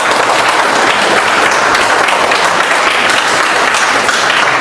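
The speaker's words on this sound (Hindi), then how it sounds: "एक बार जोरदार ताली बजा दो जरा" Loud, close, continuous applause from an audience at a Vestige business training session fills the whole stretch, a thick, unbroken wash of clapping with no voices over it.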